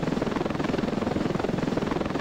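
A helicopter in the game Ravenfield descends with a loud, steady rotor chop pulsing in a fast even rhythm over a dense engine roar, close and continuous.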